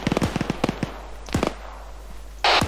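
An Arma 3 rocket launcher fires with a sudden loud, sustained blast near the end, after scattered sharp gunshot cracks.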